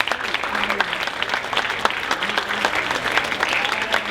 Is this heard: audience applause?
yes